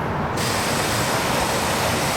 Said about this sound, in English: just by waving the garden hose attachment around, creating a mist, and producing an arc of a rainbow